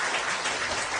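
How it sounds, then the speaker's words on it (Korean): Applause from a live audience at a Korean podcast party event, a dense steady patter of many hands clapping together close by, loud and continuous for the whole moment with no voices over it. "내 자랑스러운 동생들한테 박수 한번 주세요"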